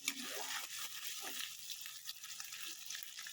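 Ginger garlic paste frying in a pan for a chicken and potato curry, a quiet soft sizzle with faint scraping stirs, fairly low in level.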